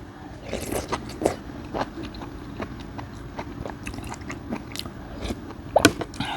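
Someone eats close to the microphone, likely termite mushroom curry: irregular crunchy bites and wet chewing sounds come in uneven bursts, with no talking.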